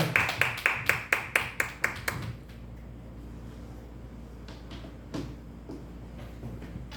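Church congregation clapping to welcome a pastor, a short burst of sharp, evenly spaced claps that stops after about two seconds, leaving a quiet room with low hum and a few faint knocks.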